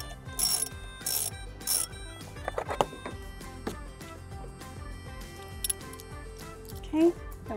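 Ratchet with a 14 mm socket and extension undoing a seat belt bolt in a 2008 Honda Accord, close-up bursts of clicking pawl strokes with metallic clanks between them, no voices.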